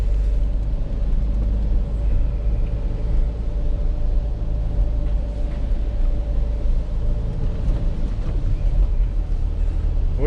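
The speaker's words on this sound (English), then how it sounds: "But the gearbox, engine and that sounds really good." A van's engine drones steadily from inside the cab while driving, a loud continuous low rumble with road noise and no clear changes in pitch, and no voices over it.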